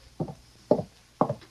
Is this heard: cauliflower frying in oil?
no